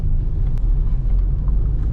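Steady low engine rumble from a 2006 Volkswagen Parati G4 with the AP engine and about 90,000 km, idling quietly and evenly close by for the whole stretch with no voices.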